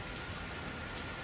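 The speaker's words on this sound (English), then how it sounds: "Yeah, it's still raining" Steady rain falls outdoors on a street in Seoul, a dense, even hiss of drops hitting surfaces that fills the whole stretch with no voices over it.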